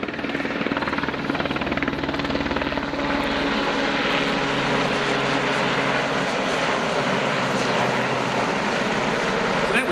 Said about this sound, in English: The Seaking getting into position near the survivor.